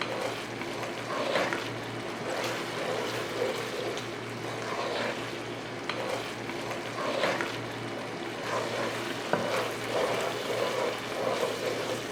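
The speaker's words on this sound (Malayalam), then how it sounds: "ഇടയ്ക്കിടയ്ക്ക് ഒന്ന് ഇളക്കി കൊടുത്താൽ മതി" Jaggery syrup with ghee being stirred in a pan for ada pradhaman, a steady low bubbling and scraping hiss with soft intermittent stir sounds throughout, close and fairly quiet, no talking.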